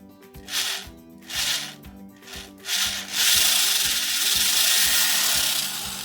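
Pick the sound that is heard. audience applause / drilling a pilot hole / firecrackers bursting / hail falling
drilling a pilot hole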